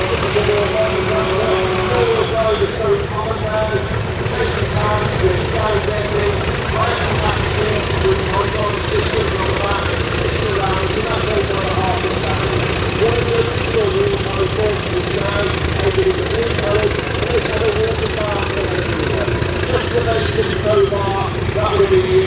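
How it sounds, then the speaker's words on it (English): A vintage twin-cylinder John Deere tractor engine running steadily nearby at a country show parade, a low chugging rumble with a rough, even rhythm throughout, and voices faintly underneath. "the twin-cylinder John Deere"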